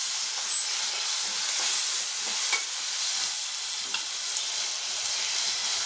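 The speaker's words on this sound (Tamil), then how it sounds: "இது நல்லா இந்த அளவுக்கு நல்லா வதக்கிக்கணும்." Tomatoes and ginger-garlic paste sauté in a pan for a chicken fry, giving a steady, loud sizzle with faint spatula stirs and scrapes throughout, and no voice.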